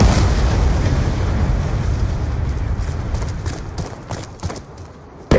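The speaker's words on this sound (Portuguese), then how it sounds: "Jogando granada." A grenade blast in the World War II shooter Call of Duty 2, a loud broad boom that opens at full strength and rumbles down over several seconds, followed by scattered distant battlefield pops.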